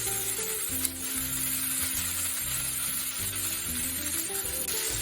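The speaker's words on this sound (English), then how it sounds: "the onions and the peppers and the garlic and everything else has been frying now for about a minute or so" Onions, peppers and garlic fry in a pan for meatball tomato sauce, giving a continuous bright sizzle with low background hum, steady and close, with no talk over it.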